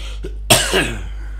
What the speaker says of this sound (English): now my cough is getting back